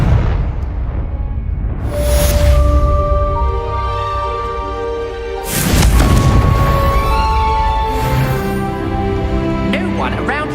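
Booming blasts from a Confringo fire spell in the Hogwarts Legacy video game, two loud explosions a few seconds apart, with a sustained roar and ringing tones from the game's sound and music in between.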